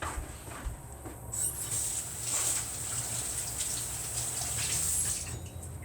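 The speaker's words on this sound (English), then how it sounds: "Let me rinse my hands" Hands are rinsed under a running kitchen tap, a steady close splash and hiss of water with shifting patter as the hands move through the stream.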